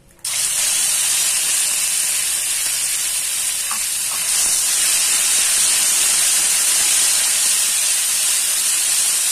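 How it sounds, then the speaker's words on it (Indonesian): Ground chili, shallot and garlic paste dropped into hot oil, bursting into a loud, steady hissing sizzle that holds evenly throughout, with no talking. "Kita tumis sampai matang ya teman-teman. Cabenya, bawang merah, dan bawang putihnya."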